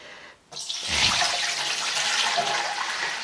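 Running tap water pours steadily over dried persimmons and dried pumpkin strips being washed in a kitchen sink, a brief hush at the start before a continuous close splashing flow.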